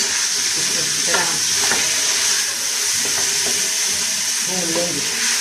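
Garlic paste and crushed ginger paste fried and stirred in a pot for chicken salan, a loud steady sizzle with scraping spoon strokes at intervals, no one speaking.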